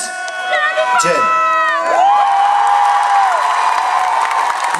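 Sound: crowd applauding and cheering at concert

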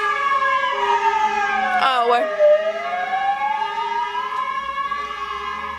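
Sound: sirens of passing ambulance and fire engines

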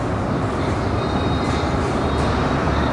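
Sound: train approaching

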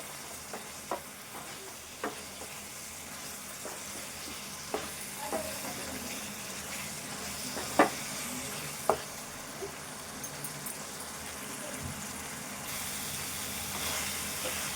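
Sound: stirring and frying chicken with green chili in a pan

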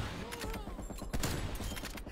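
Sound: sniper rifle shots in Call of Duty video game

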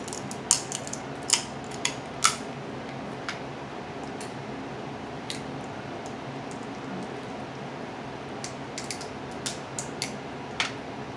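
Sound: old scissors cutting

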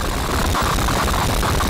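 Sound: harsh noise synth module without reverb

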